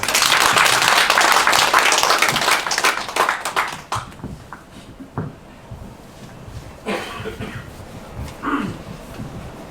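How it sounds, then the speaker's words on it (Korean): Audience applause at a book launch at a Gwanghwamun bookstore, a dense burst of clapping for the first four seconds that thins into scattered claps and light rustling, with a few faint voices near the end. "큰 박수 부탁드립니다."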